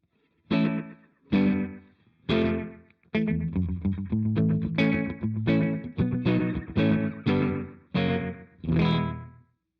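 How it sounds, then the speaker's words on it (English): Electric guitar through a Donner delay pedal set for slapback, with mix and dry level about even: a series of punchy strummed chords in a steady rhythm, each doubled by a tight, quick repeat, loud and close with no talking. "Kind of a slapback sound."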